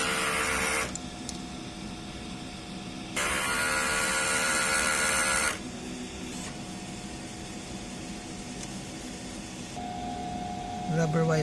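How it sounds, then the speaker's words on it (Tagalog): A DTF printer runs a print head cleaning cycle: a steady mechanical whir broken by two loud bursts of hissing pump noise, each lasting a second or more, then a shift in motor pitch near the end. "Ganito naman ang pag-head clean."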